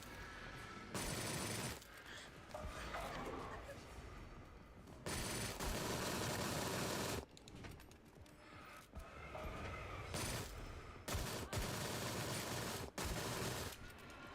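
Rapid bursts of PPSh submachine gun fire in the video game Sker Ritual, loud and close, coming in several long automatic strings separated by short pauses.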